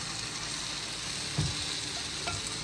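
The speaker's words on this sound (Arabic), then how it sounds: "نسمع صوت الطشه" Sugar syrup poured over hot basbousa fresh from the oven produces a steady, close, crackling sizzle, with a couple of slightly louder pops.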